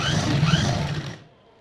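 A sewing machine stitches a lehenga or fishcut gown seam in a short close burst of rapid whirring, about a second long, before it stops abruptly into near silence.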